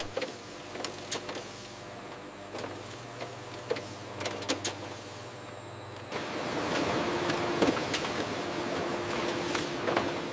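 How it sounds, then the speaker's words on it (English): Sugar packaging machines in a factory fill packages with a steady mechanical hum and scattered clicks and clatter, growing louder and busier halfway through with a continuous whirring rush. "Machines fill thousands of packages per hour."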